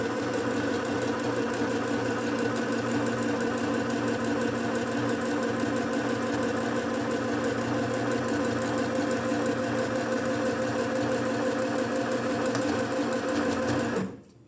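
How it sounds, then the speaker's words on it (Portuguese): A domestic sewing machine stitching a pocket on a quick fabric bag, a loud, even mechanical whirr running unbroken and close for the whole stretch, then stopping abruptly at the end. "E agora eu venho costurando com retrocesso"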